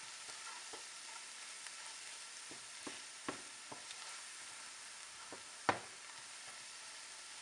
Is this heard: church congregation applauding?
no